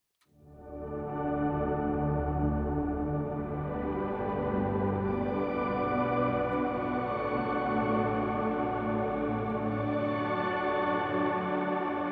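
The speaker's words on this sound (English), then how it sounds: "Here's the bump pad, just the sample." A sustained synth pad swells in quickly and holds as a rich, steady chord with a warm, slightly wavering tone throughout.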